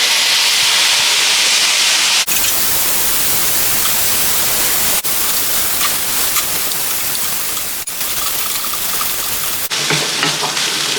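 Half-inch strips of bacon sizzle and crackle in a hot dry pan, a loud, dense, continuous hiss with fine spitting pops, with a few abrupt cuts between takes.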